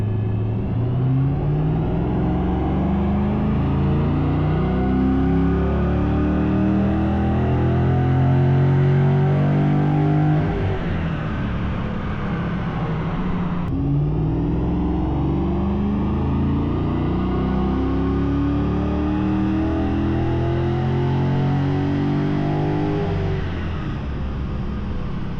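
A Harley-Davidson motorcycle with a full Empire exhaust and OTR intake running on a dyno, a loud, sustained engine roar that climbs steadily in pitch, cuts off briefly, then revs up again close by, with no voices.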